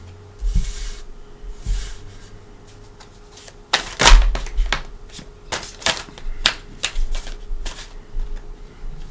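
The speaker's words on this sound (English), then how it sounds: "I'm going to shuffle." Playing cards shuffled by hand during a card-reading demonstration, a run of close, crisp riffling bursts and snaps spread across several seconds, with a few soft handling sounds before them.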